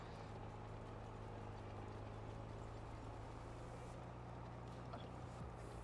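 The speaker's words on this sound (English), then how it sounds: "This tractor pulls it in an odd gear, it like idles." A tractor engine idles in a farming video game, a low, steady, droning rumble that holds evenly throughout at a faint level with no talk.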